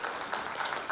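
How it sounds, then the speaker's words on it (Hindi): An audience at a paint industry conclave claps in a brief burst of applause, a dense, even patter of many hands at moderate distance. "एक बार ताली बजा दो सर मुकेश भाई के"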